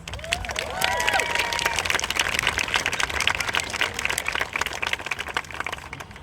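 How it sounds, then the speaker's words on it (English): A crowd applauds with dense, steady clapping that fills the space, accompanied by scattered cheers and a few whistles early on. "our promoters deserve a big round of applause"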